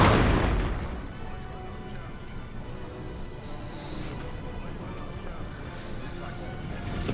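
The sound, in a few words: cannon and artillery fire in Napoleon Total War video game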